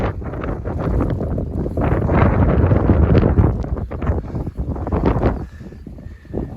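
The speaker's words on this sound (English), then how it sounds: "it's extremely windy" Strong gusts of wind batter the microphone on open moorland near Great Links Tor, loud buffeting roars surging and easing in waves with no one speaking.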